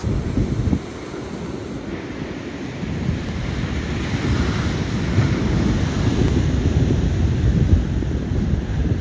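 Sea waves roll in at Nagva beach in Diu under light rain, a steady broadband surf roar with gusts of wind buffeting the microphone, continuous and fairly loud throughout.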